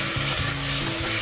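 Onions frying with salt in a pan, turning golden brown, give a steady loud sizzle with a few stirring scrapes. No one talks.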